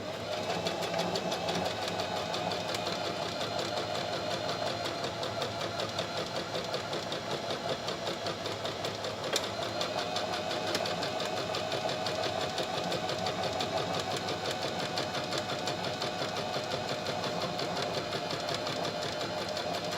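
A domestic sewing machine stitches a buttonhole in fabric, its needle running in a fast, even mechanical chatter close by for twenty seconds without a break, alone with no talking.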